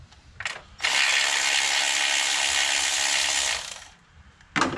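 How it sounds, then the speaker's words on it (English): A power ratchet takes the last bolt off a 2010 Honda Accord 2.4 engine during a valve adjustment, a loud continuous whirring burst lasting about three seconds, with short bursts just before and after. "I'm just going to take this last bolt off."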